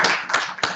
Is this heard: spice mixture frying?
no